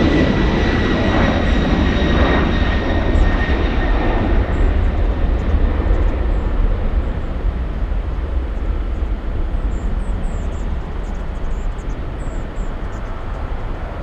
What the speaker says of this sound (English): from one LATAM 787 Dreamliner to another. The Southside takeoff going to Sao Paulo, Brazil.